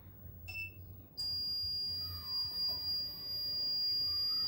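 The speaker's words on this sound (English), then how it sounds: "we'll hear the alarm from the house." A baby saver box alarm sounds inside a house, a steady high electronic tone that starts abruptly and holds continuously over low background rumble, heard at moderate distance.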